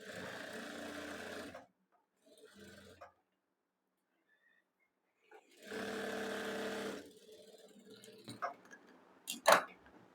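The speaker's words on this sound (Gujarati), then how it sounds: "તેની જ ઉપર આપણે બીજી સિલાઈ લગાડવાની છે" A sewing machine runs a second seam of stitching on a designer kurti, in two short whirring bursts separated by a quiet gap, followed by a few light clicks and taps.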